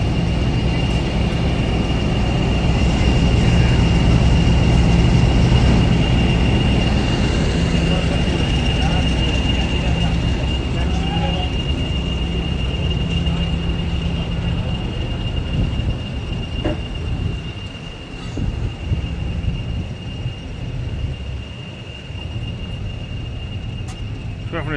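A diesel locomotive at a railway diesel gala rumbles past in a steady, loud low drone with a constant whine, slowly fading as it draws away, with speech in the background.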